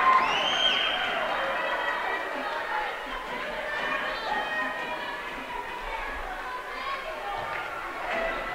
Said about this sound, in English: the crowd goes crazy as Snow gets another point